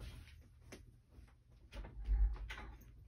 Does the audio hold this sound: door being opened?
yes